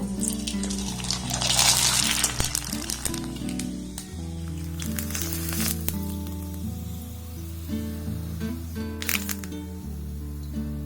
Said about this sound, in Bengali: এইভাবে সবগুলোকে আমি সুন্দর করে ভেজে নেব